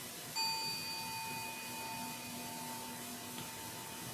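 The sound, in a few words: closing bells of a Zen service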